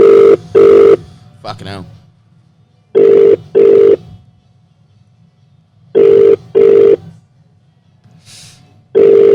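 Telephone ringing on an international call: paired bursts of ring tone repeating at a steady rhythm, clear and loud, with someone talking quietly between rings.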